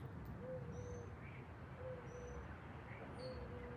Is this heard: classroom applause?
no